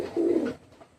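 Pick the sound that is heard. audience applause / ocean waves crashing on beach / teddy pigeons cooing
teddy pigeons cooing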